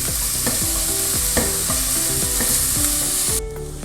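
Onions sautéing in a hot pan for chicken kofta, a loud continuous sizzle broken by regular scraping strokes of a spoon stirring them, with no voices.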